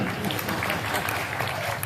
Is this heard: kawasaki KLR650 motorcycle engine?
no